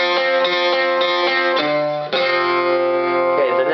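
Acoustic guitar strummed in a steady rhythm, chords ringing close and clear, with a brief pause before a fuller chord sustains.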